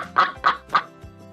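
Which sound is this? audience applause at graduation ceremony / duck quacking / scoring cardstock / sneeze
duck quacking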